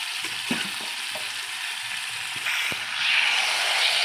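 Marinated chicken frying in a spicy paste, a steady sizzle with a few sharp clinks of a ladle, the frying growing louder toward the end.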